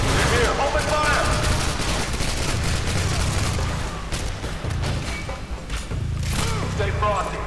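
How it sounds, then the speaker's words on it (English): Dense bursts of automatic gunfire and booming shots from the video game Call of Duty: Modern Warfare 2 fill a firefight, continuous and loud, with character voices calling out between the shots. "They're here. Open fire!"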